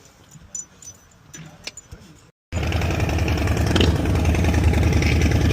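A motorbike is started in cold weather: soft rattling and key jangles come first, then after a brief pause the engine fires and runs loudly and steadily close by.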